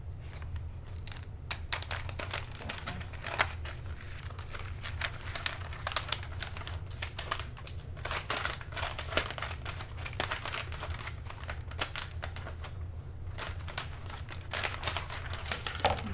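Scissors or a cutter work through a laminate sheet being cut in half, giving a steady run of crisp crinkling snips and crackles, close and fairly quiet over a low background hum.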